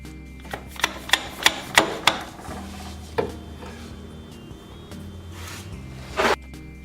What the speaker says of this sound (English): use the shaft to tap on the end of the splines to get the retaining clip